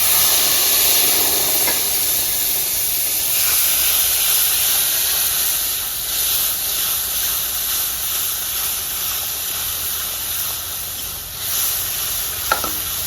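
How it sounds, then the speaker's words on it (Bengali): Dried red chillies, whole cumin and a prepared spice paste hit hot oil with a loud, steady sizzle and hiss that fades slightly over time, with a small clink near the end and no talking. "দুটো শুকনো লঙ্কা আর তার সাথে গোটা জিরে আমি ওই মশলাটা যেটা করে রেখেছিলাম সে মশলাটা দিয়ে দিচ্ছি"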